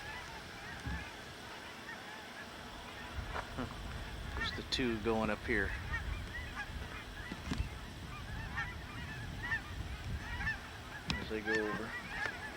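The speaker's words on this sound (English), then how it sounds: "I hear more geese." Geese honk repeatedly as they fly over a lake, their calls coming in bursts at a moderate distance while someone talks over the outdoor ambience.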